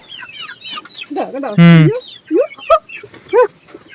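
Several chickens cluck and squawk close by, a loud drawn-out squawk in the middle followed by short scattered clucks, with other birds chirping faintly behind.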